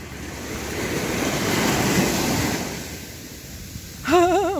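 Sea waves wash onto a beach at high tide at Dibba Al Fujairah, a broad swelling surf roar with wind noise, easing off before a brief whistle-like tone rises at the end.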